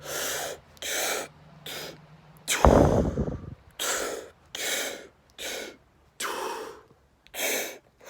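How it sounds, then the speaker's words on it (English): Deep, rapid breathwork breathing into the belly and chest, with a steady run of forceful inhales and exhalations about once a second, close and loud, plus one sharper gasping burst midway; no talk. "So as I'm doing a breath, I'm going."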